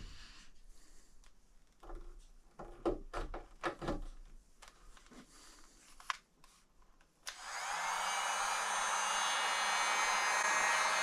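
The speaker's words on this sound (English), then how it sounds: "If I run the heat gun draws a lot of juice." After a few clicks and knocks, a heat gun switches on and runs with a steady loud rushing whir, powered from a DIY power station.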